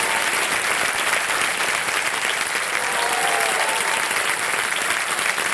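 A studio audience on the Indian quiz show Kaun Banega Crorepati breaks into loud, dense applause that holds steady and unbroken for several seconds, filling the room without any speech over it.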